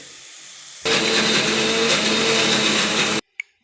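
A mixer grinder whirs loudly at a steady pitch for a few seconds, then cuts off abruptly, followed by a brief click.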